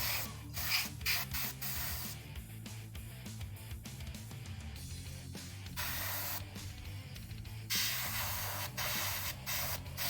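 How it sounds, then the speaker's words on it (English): An airbrush sprays paint onto miniature figures in steady hissing bursts, close and fairly loud, with brief pauses and clicks between passes. "now I'm gonna just airbrush these real quick because I'm gonna let the other ones dry"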